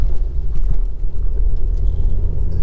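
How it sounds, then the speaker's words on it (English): A Honda Accord 2.0 i-VTEC automatic idles close by, a smooth, steady low rumble with slight fluctuations and no one talking. "Turn the key, engine starts instantly, settles to smooth,"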